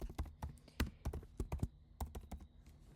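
Typing on a computer keyboard while a Suricata intrusion detection rule is written out, with clear, close keystrokes in uneven bursts of taps and brief pauses between them, and no talking.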